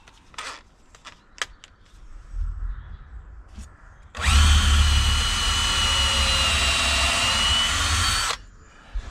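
A power drill pilots a hole through one piece set on top of another during a garden building project. It runs loud and steady for about four seconds after some quiet knocks and handling noises, with no talking.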